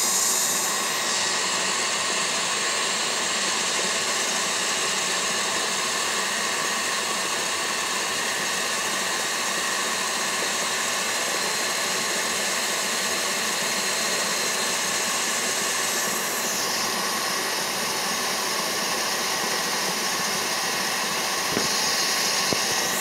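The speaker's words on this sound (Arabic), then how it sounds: "ثم بعدها سنقوم برفع الخفاق إلى أعلى سرعة" An electric stand mixer whisking Italian meringue at top speed, a loud, steady whirring motor drone with a constant high whine that holds unbroken for over twenty seconds.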